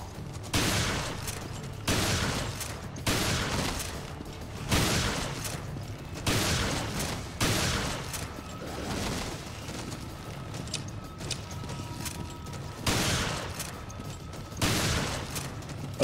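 Gunfire in the Resident Evil video game: repeated bursts of loud shots in a steady rhythm, about every one and a half seconds, with brief quiet gaps between volleys and game ambience underneath.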